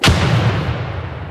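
One frag grenade goes off in the America's Army 3 shooter, a loud, close, booming burst with deep rumble that stays dense and forceful throughout the short moment.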